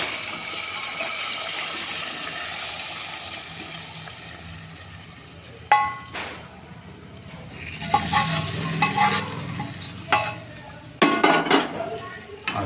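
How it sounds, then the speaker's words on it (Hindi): Fried green chillies and cumin are poured sizzling onto dal, with sharp bursts of hissing and clattering pan and utensil noises starting midway, following a quieter stretch of steady background frying. "फ्राई की हुई जो है ना हरी मिर्चें और ज़ीरा वगैरह इसके ऊपर डाल रहा हूँ।"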